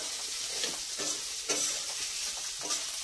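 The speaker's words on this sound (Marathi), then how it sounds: "मी आता हिरवी शिमला मिरची, पिवळी आणि कोबी थोडासा परतून घेते" Green and yellow capsicum with cabbage stir-fried in a pan over low heat, giving a steady close sizzle broken by soft scraping stirs at roughly one-second intervals.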